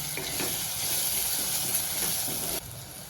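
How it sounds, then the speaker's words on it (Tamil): Chili powder, turmeric and garam masala sautéing in a hot pan give a steady, dense sizzle that drops abruptly in level near the end. "இது வதக்கிடுவோம்."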